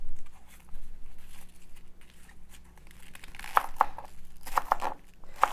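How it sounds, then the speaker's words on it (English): Chef's knife chopping cabbage finely on a board, a run of quick, crisp cuts that build toward the end over a steady low kitchen background. "So if you don't have a mandolin, you can just use your chef's knife and chop this as fine as you can."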